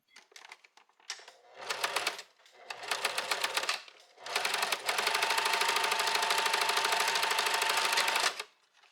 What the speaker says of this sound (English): So now we're top stitching this, and so right through the serging line.